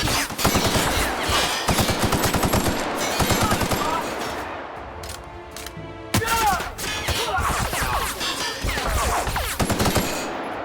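Weapons firing in the video game The Outer Worlds: rapid, loud machine-gun bursts with sharp individual cracks, a short lull with a mechanical whine, then more heavy automatic fire close by.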